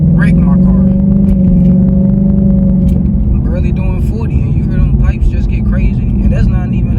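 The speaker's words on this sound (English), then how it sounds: "you hear them pipes just get crazy" A 2025 Ford Mustang GT (S650) with a non-catless exhaust, driven at about 40 mph, drones with a loud, steady low engine rumble, its pipes swelling briefly before settling into a rougher roar, with a voice over it.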